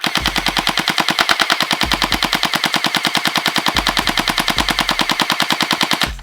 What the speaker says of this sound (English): let's see how many RPS this blaster shoots